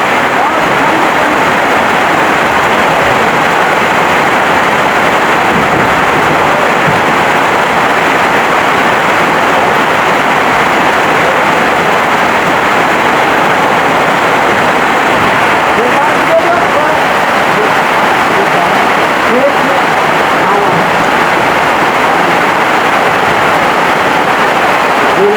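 Heavy rain pours down in a continuous, loud hiss that does not let up, a dense wash of falling water with no pauses.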